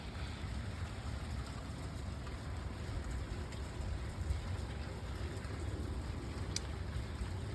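Steady rain falls in Paris, heard as a dense, even hiss of drops with a low rumble of distant traffic through an open door, no voices.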